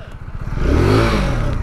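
A small 125cc Kawasaki Z125 motorcycle revs up close, its engine note climbing steadily over about a second and a half, loud and continuous with a slight rattle, no talking.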